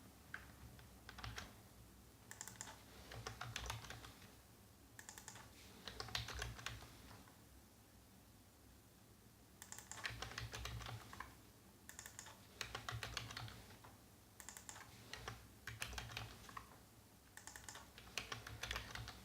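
Steady bursts of keyboard typing in a quiet room while JavaScript code is written, clicking keys coming in runs with short pauses between them, close and fairly soft, with no talking.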